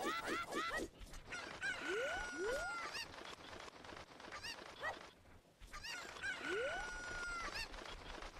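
Cuckoo chickens clucking and crowing in the video game Ocarina of Time, two bursts of rapid clucks and rising crow-like calls separated by a short lull.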